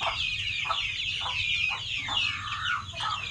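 Rhode Island and broiler chickens cluck in a backyard coop, a dense chorus of overlapping rising calls and chatter that continues steadily over a low background rumble.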